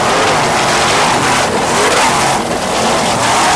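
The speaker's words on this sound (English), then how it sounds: "We've got a battle going on between these two boats in sport division." Offshore racing powerboats in the sport division at a 1992 Key West race, their marine engines roaring steadily and loud as they run close together.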